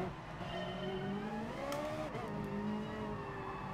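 Race car engines in Gran Turismo Sport, an FIA Manufacturer Series race, hum and drone steadily at the start, pitch rising and falling slightly as cars rev, faint and continuous without talk.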